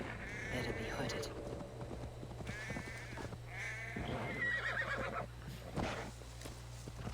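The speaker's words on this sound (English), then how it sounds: "Let me just be hooded here as I ride on my horse at speed." Horse neighing and hoofbeats from a medieval-themed video game as the rider goes at speed through a town, with whinnies recurring over a steady background and someone talking over it.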